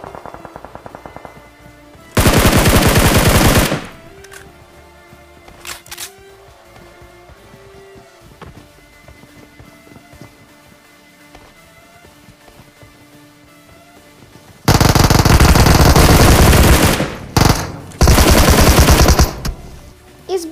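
Machine-gun fire in PUBG Mobile during a duo match: two loud sustained bursts, one short early volley and a longer, broken run of rapid shots near the end, separated by quieter game ambience.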